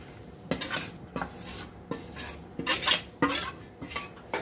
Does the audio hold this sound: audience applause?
no